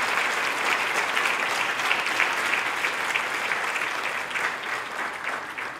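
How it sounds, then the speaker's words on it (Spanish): Loud, dense applause from a large church congregation, steady and sustained for several seconds before easing slightly at the end. "Dale un fuerte aplauso a la palabra de Dios."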